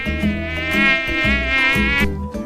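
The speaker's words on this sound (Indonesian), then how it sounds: "Hai teman hebat, aku nyamuk." A mosquito buzzes in a loud, close, continuous whine that wavers slightly in pitch, with a rhythmic low pulsing beneath it.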